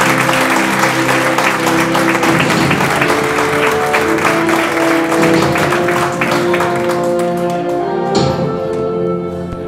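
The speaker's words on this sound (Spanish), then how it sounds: "Un fuerte aplauso." A crowd at a Spanish political party event applauds loudly and continuously, dense clapping filling the room for several seconds before tapering slightly near the end.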